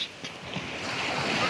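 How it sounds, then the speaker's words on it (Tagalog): Wind rushes in a broad, steady roar, rising slightly, with a surf-like wash beneath it and no voices. "Mahangin."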